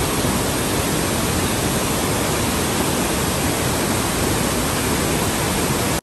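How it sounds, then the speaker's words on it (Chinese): A large waterfall in the Muskoka region of Ontario, swollen and running heavily after days of rain, gives a loud, steady, unbroken roar that fills the whole clip with no voices. "最近因为一直下雨的原因，所以这个瀑布水量非常的大"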